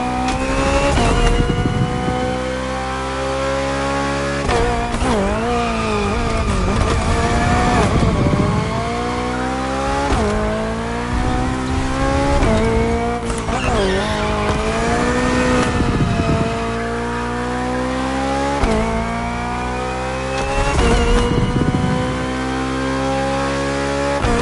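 BMW Hybrid V8 race car in The Crew Motorfest, its engine screaming loud and close, revving up through gears with repeated rising pitch sweeps and brief drops at shifts, tire squeals mixed in, no talk.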